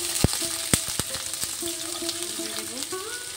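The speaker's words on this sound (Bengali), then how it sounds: "এটা গরম হয়ে গেছে, এর মধ্যে প্রথমে আমি সবজিটা পুরো ঢেলে দেব" Vegetables poured into a pan of hot oil set up a steady close sizzle, broken by several sharp utensil knocks and clinks, with no talking.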